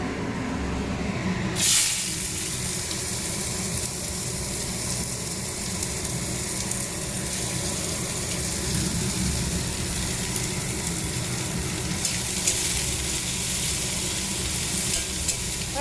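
Onions fry in a pan with dried chilli, cumin and mustard seeds, a loud steady sizzle running continuously from just after a brief opening clatter to the end.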